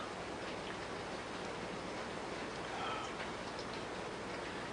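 Steady rain falling outdoors, a dense even hiss with faint scattered drops, continuous and moderately quiet with no voices.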